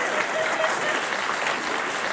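An audience applauds steadily for a couple of seconds, a dense, even patter of clapping with a faint murmur of crowd voices beneath it.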